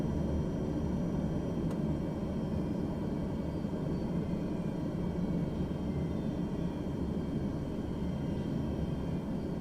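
A steady low aircraft engine drone from a plane taxiing at idle in Microsoft Flight Simulator 2024, a continuous broadband rumble at even loudness throughout with no talk.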